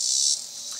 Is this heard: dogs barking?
no